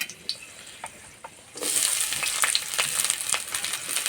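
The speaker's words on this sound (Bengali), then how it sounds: "রসুন হালকা ভাজা হয়ে গেছে, এবার দেবো পেঁয়াজ কুচি," Chopped onion hits hot oil in which garlic cloves have been lightly fried, and the quiet pan erupts partway through into a loud, steady sizzle with scattered scraping clicks of a spatula stirring.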